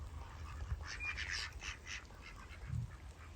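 Ducks quack repeatedly on a pond, a loose cluster of nasal calls at moderate distance over low outdoor rumble, with one louder call near the end.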